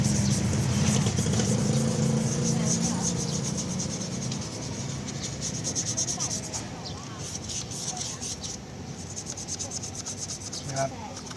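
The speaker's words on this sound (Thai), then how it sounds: "ใครมีแปลงใหญ่นี่ขัดออกสบายเลยครับ" A large brush scrubs hard across a grimy car engine bay that has gone six years without cleaning, making steady, close, rough rubbing strokes throughout with brief pauses near the end.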